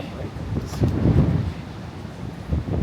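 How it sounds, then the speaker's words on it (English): Strong, gusty wind buffets the open deck of the Ovation of the Sea cruise ship, roaring steadily at the microphone with surging gusts, waves churning below. "the wind is like 40 mile per hour gust out here"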